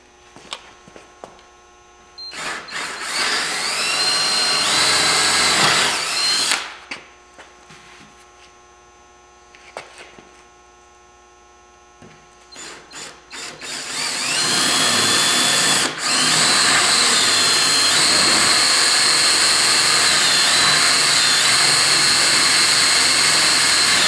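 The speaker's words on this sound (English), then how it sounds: "When you're drilling through wood, you don't want to push" Bursts of a power drill boring through wood, a high whining motor rising in pitch, cutting out, then running again for a long continuous stretch, close and loud with quiet gaps between runs.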